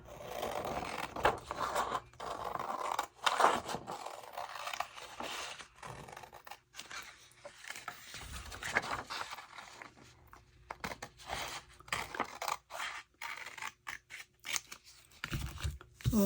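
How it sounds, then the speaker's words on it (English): Scissors snip through cardstock paper in a string of close, crisp cuts with brief pauses, quiet and intimate with no talking. "I'm just going to go ahead and cut it with scissors."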